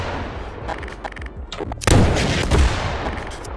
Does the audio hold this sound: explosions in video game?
yes